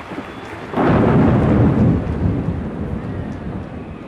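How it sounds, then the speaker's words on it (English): Distant thunder breaks in with a sudden deep rumble that swells for about a second, then rolls on and slowly fades into a low, steady hum. "Underneath a pale and darkening sky, ruptured by distant thunder"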